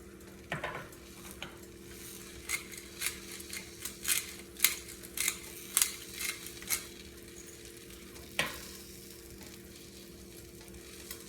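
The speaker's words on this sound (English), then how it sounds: "So I'll just use that same pan, cook my eggs." Eggs cooking in a frying pan, a quiet steady sizzle with repeated light scrapes and taps of a utensil against the pan, no talking.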